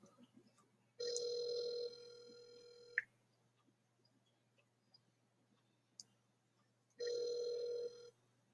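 Phone line ringback tone during a call, two long electronic rings about six seconds apart with a click after the first, faint hum and near-silence in between, no talking.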